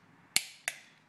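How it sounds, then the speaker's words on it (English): Torque wrench tightening a rod nut to 45 foot-pounds on a Chevy 383 stroker engine, giving two sharp, close metallic clicks about a third of a second apart in a quiet setting. "And you hear the big click."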